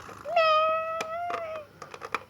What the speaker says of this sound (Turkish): Evet bebek kedi var gibi